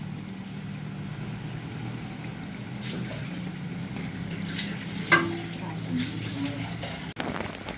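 Beans sauté in a pot with tomato sauce, giving a steady close sizzle with soft bubbling and a few sharp clinks of a utensil against the pot.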